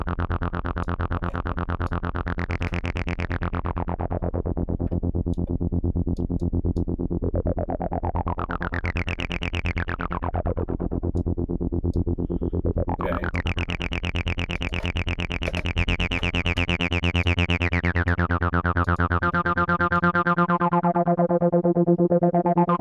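A sustained synth bass tone in Audiotool with sweeping filter rises and falls, washed in a long reverberant tail, steady and loud without any voices.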